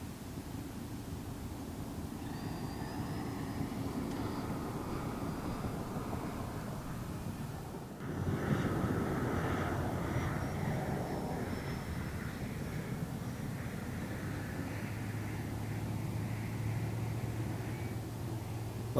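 A foam FMS F-86 Sabre jet with an 80mm electric ducted fan flies during a stall test, giving a steady airy whine and rushing noise that holds at a constant moderate level for the whole stretch, with a brief dip partway through.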